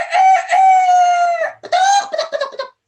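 A rooster crows loudly and close by: one long drawn-out cock-a-doodle-doo, a brief pause, then a second, choppier crow breaking into clucking notes, heard alone with no talk.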